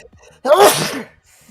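A single loud, close sneeze bursts out of near silence during a live panel show, with a quick sharp onset and a short trailing exhale.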